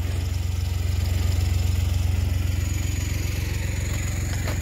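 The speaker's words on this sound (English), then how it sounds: "Don't ask me what that engine is" A car engine idles nearby at a breakers yard with a steady low rumble and faint rhythmic pulsing, holding constant without revving.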